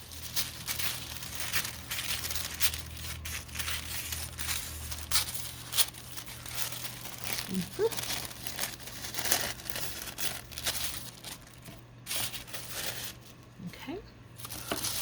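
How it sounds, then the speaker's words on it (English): Tissue paper is crinkled and rustled while being cut out by hand, giving soft, irregular crackles and snips that run throughout at a low level, close by. "fun little tissue paper. So I'm just going to cut these little guys out kind of sloppily"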